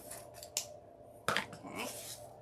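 Scissors trim deco mesh ribbon for a gingerbread Christmas wreath, two or three quiet, crisp snips close by with light rustling of mesh between them and no speech.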